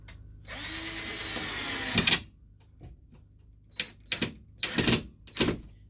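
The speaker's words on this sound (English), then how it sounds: "I'm going to start putting in some screws" Power drill driving screws into drywall to hold a wall on; one long whirring run, then several short bursts and a final brief spin, close and loud with no talk.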